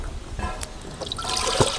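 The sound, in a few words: pouring water into cooking pan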